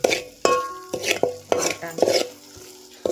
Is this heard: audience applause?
no